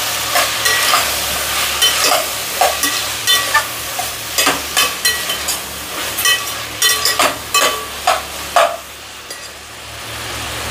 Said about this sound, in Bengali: এবার আমি ভালো করে নেড়ে দেবো।